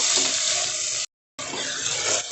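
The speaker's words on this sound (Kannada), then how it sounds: "ಎಣ್ಣೆಯಲ್ಲಿ ಒಂದು ಐದು ನಿಮಿಷ ಫ್ರೈ ಮಾಡ್ಕೊಬೇಕು" Tomato bath masala paste with turmeric and salt frying in oil in a pan, a steady close hiss of sizzling with a brief gap where it cuts out, then the frying resumes.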